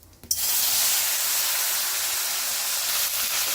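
Cumin seeds and asafoetida hit hot oil with a sudden loud sizzle that settles into a steady, bright hiss and holds close and strong, as a tempering for a potato and okra fry.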